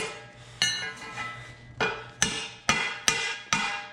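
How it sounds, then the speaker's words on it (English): Sharp metallic hammer blows strike a hard metal part of a 1953 Ford F100 truck, about seven ringing impacts at an irregular, quickening pace, close and loud with no talking. "Let's grab a hammer here."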